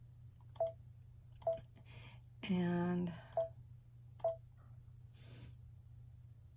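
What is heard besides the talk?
keyboard typing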